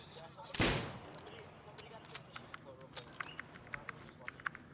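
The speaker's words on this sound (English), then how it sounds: "You're shooting at me, bro." Gunfire in the Rust video game: one loud close shot at the start, then a string of sharper, quieter cracks and taps spaced irregularly, with a player's voice talking.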